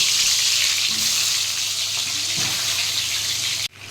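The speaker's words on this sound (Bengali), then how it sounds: "তেল গরম হয়ে গেছে এবার পটলগুলো একটু ভেজে নেব" Pieces of pointed gourd (potol) coated in turmeric frying in hot oil for potol korma, giving a loud, steady, close sizzle that runs throughout and cuts off abruptly at the end.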